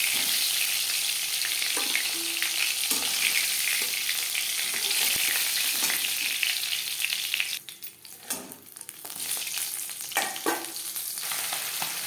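Chela fish crackle and sizzle in hot oil in a pan, a constant hiss that drops briefly partway through and then comes back with scattered pops and clatter.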